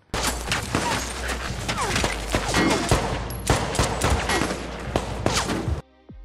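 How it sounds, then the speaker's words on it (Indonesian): Rapid bursts of gunfire, sharp repeated shots in a dense volley that continues for several seconds, then cuts off abruptly. "apalagi aparat melepaskan tembakan"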